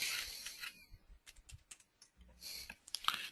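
Typing on a computer keyboard while entering lettering in embroidery digitizing software, heard as light, irregular clicking bursts of keys at close range, with short pauses between runs.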